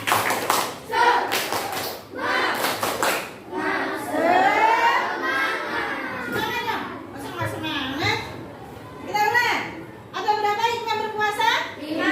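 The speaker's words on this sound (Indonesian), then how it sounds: "Tepuk semangat." Schoolchildren in a classroom perform a rhythmic chanted spirit clap, bursts of sharp group claps in a patterned beat alternating with children's sing-song chanting voices.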